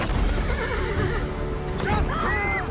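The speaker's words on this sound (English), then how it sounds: "But there's a horse." A horse neighs loudly, with two long quavering whinnies close by against a rumbling background, along with faint hoof sounds.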